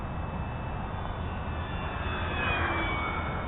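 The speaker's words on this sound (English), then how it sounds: "We'll make a pass right in front of us at full throttle." A Durafly F4U Corsair RC plane makes a full-throttle pass, its electric motor a steady whine that rises slightly in pitch and loudness as it draws near, set against a constant background drone.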